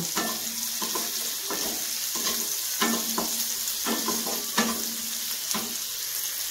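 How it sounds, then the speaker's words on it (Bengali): Onions frying in oil with salt for a loitta (Bombay duck) fish curry: a steady close sizzle broken by about a dozen scraping stirs of the pan at an uneven pace. "এখন আমি পেঁয়াজটার মধ্যে দেবো হচ্ছে একটুখানি নুন, যাতে আরো তাড়াতাড়ি এটা ভেজে নেওয়া যায়"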